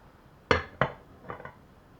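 A lid is set on a pot of boiling rice, giving two quick metallic clanks close by and then a softer double rattle as the lid settles.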